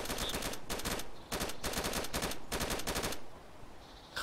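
Sustained automatic gunfire from a firefight on an airstrip in DayZ, rapid bursts of shots in several long volleys that fill the clip loudly, then drop off near the end.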